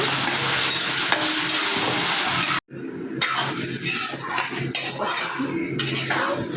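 Food sautéing in a pan, with a steady broadband sizzle and stirring scrapes and clinks. The sizzle cuts out for a moment partway through, then resumes at the same level.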